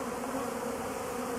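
A mass of honey bees around a swarm fan and buzz in a loud, dense, unbroken drone close at hand as they call the others in, with no voices.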